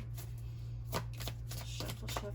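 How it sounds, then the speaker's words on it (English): Soft riffling and flicking of playing cards being shuffled by hand, a few quick bursts over a low steady hum. "let me just shuffle up this deck a little bit here"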